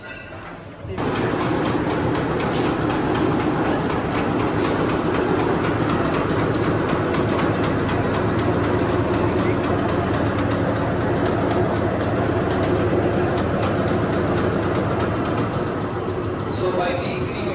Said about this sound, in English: To grade this, we are using the sieving machine.